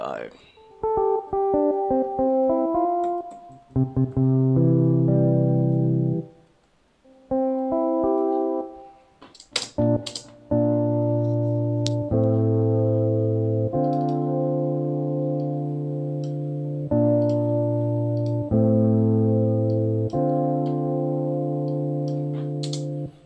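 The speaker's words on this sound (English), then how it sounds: "And the next one, I have a guitar." A clean electric guitar plays a sequence of plucked notes and sustained chords, alone, with brief pauses between phrases.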